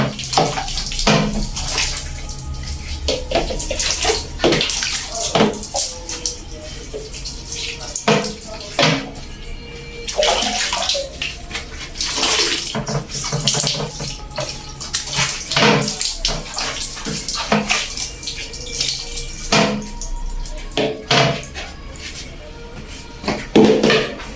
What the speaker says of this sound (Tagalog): Yan itong tubig.